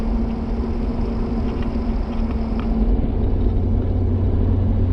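A Ford Super Duty pickup with the 6.7 Powerstroke diesel and Banks Derringer tuner pulls hard under added throttle while merging onto a highway, a steady, loud cabin rumble with a low engine drone that swells slightly.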